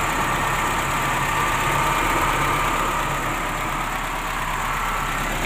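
A 1992 Toyota Kijang Super G engine idles at a steady, even pace, giving a close, continuous hum with light mechanical vibration and no change in pitch; no one speaks.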